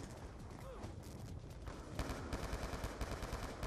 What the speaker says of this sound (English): Oh, I'm shooting Salazar?